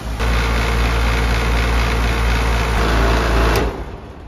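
An AC compressor runs steadily after its contactor is engaged by hand during a TXV valve installation, giving a loud, continuous close-range hum that carries on and then fades and cuts off near the end.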